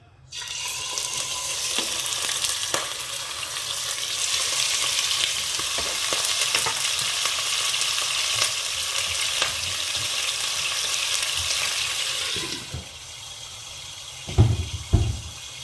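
Chicken frying in hot oil for a Thai creamy chicken dish, a loud continuous close sizzle and spatter lasting about twelve seconds before dropping away, followed by a few clattering knocks.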